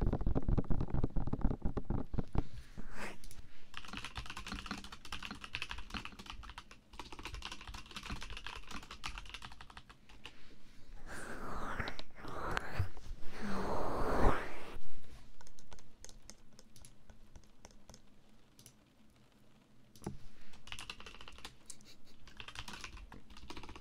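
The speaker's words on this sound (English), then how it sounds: "I really like the song of my keyboard" Continuous close-up typing on a computer keyboard in an ASMR recording, a dense clicking stream that swells and pauses partway through, with no speech.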